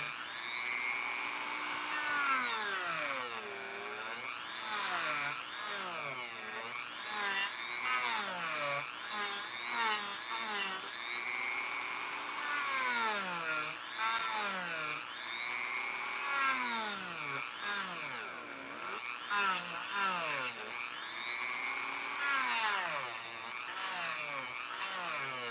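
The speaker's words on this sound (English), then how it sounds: "there's not a lot to talk about while I'm sanding" A small rotary tool sanding a plastic action figure whines continuously, its pitch sweeping up and down as it bears against the surface, a close, buzzing grind with no talking.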